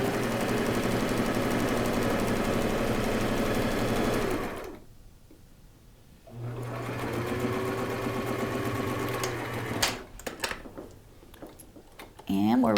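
A sewing machine runs a straight stitch through turban fabric in a steady mechanical whir, pauses briefly, starts again, then stops with a few clicks.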